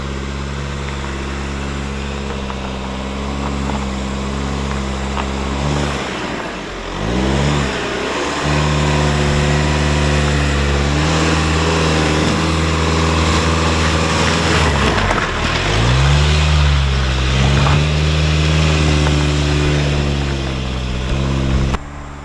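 A Volkswagen Golf Alltrack engine revs hard while climbing an off-road obstacle, a loud, close, sustained drone that swells and dips twice as the throttle is worked over about twenty seconds, with no talk.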